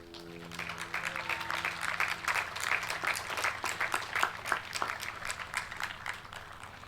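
A crowd at a high school graduation ceremony applauds senior basketball players with dense, sustained clapping that holds steady throughout, moderately loud and slightly distant, with a faint sustained tone underneath at the start.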